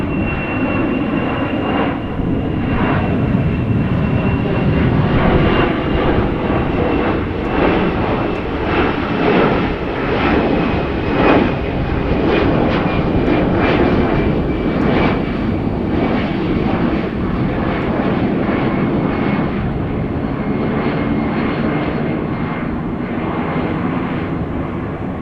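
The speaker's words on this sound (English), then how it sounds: "Gear is still extended. And there's a go around." An airliner goes around at Amsterdam Schiphol with its landing gear still extended. Its jet engines give a loud, sustained roar with a thin whine, steady across the whole stretch, and no talk.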